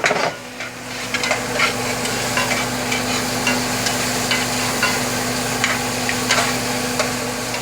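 Shrimp being stirred into a cream cheese dip for a shrimp and crab dip, a steady soft mixing and scraping with small clicks of the utensil against the bowl, close and continuous over a low background hum.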